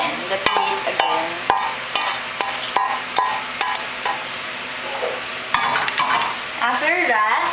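Spatula scraping and clacking in a frying pan while tuna filling for burritos sizzles, with sharp rhythmic knocks about every third of a second over a steady fry hiss, close and loud.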